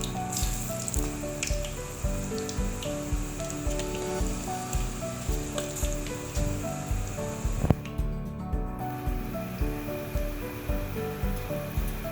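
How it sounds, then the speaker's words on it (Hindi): Spiced potato fries crackle in hot oil with a continuous, even sizzle that holds steady throughout, mixed under background music with tonal notes. "अब हम इसको गरम ऑयल में फ्राई कर लेंगे"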